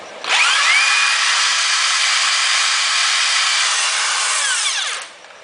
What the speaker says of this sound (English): I'm going to tighten down the bit again, like I said, and just drill it all the way.